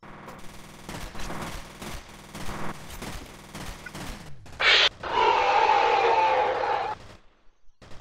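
Rapid automatic gunfire from F.E.A.R. rattles in steady bursts, then a louder, dense roar of shooting and blasts fills the last few seconds before cutting off abruptly.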